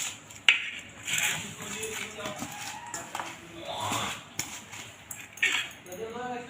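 Grated taro being mixed by hand with chopped onion, green chili, ginger and garlic in a metal bowl, with scattered light clinks and scrapes of a utensil against the dish while someone talks over it.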